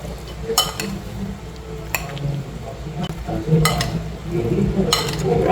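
Pasta bolognese being stirred in a pan with a utensil, giving soft scraping and occasional clinks against the metal over a low background, steady and close.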